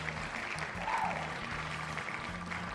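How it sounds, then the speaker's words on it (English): Steady, dense applause sound effect in Genshin Impact's Spiral Abyss rolls on without a break, layered over a low, rhythmic game music loop. "God, I love the applause."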